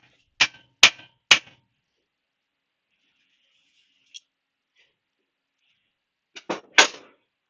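Metal hammer blows on a Villiers kickstart lever, three sharp strikes in quick succession, a lone faint tap, then a closing cluster of three or four hits, all separated by near silence.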